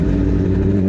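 A Suzuki Hayabusa motorcycle fitted with a Brocks Alien Head slip-on exhaust, heard as a loud, close, steady deep engine drone, sustained without a break.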